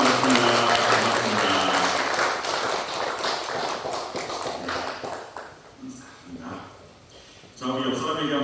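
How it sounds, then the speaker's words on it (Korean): A church congregation at a Wednesday prayer service claps in greeting, loud and close at first, then thinning as voices talk over the tail. "네, 우리 박수로 인사해 드리겠습니다"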